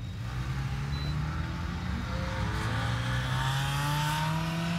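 A Honda on an autocross run revs through rising and falling engine sweeps, heard from a moderate distance as a continuous, fairly loud drone without speech.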